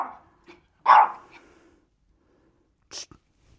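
A dog gives one short, sharp bark up close, with a few faint huffs and snorts around it and a brief sneeze-like burst near the end, in an otherwise quiet room.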